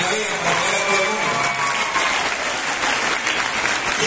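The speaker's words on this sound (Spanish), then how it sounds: "Un aplauso para ustedes, realmente." Graduates of free courses at a foundation receive sustained applause from a crowd indoors, with dense steady clapping throughout and faint voices beneath.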